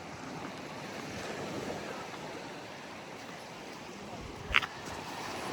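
Sea surf washing steadily against a hotel jetty with steps down into the water in Paphos, Cyprus, a continuous broad rush mixed with wind, and one brief sharp knock near the end.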